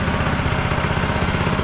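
A small go-kart engine on a kart built from a Yeti ice chest runs close by, a loud, steady, throbbing putter like a lawn mower motor.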